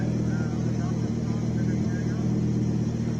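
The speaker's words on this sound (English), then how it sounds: "We got Alex Johnson one more time, 5-cylinder turbo, all-wheel drive, Audi Quattro" An Audi Quattro race car with a five-cylinder turbo engine and all-wheel drive drones loudly and steadily at a classic car track event, the engine tone constant throughout with a commentator's voice layered over it.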